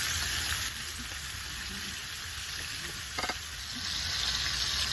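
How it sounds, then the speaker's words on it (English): Pork chops searing in a pan with peppers, a steady loud sizzle filling the whole stretch, with a few faint scrapes of stirring near the middle. "the pork chops have seared on both sides"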